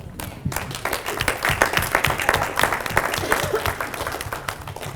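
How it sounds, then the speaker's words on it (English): Audience applause for parents and grandparents at a school Terrific Kids assembly at Miller Intermediate, a steady crowd of clapping lasting several seconds in a room, with some faint voices mixed in. "Terrific kids, stand, give all parents a round of applause."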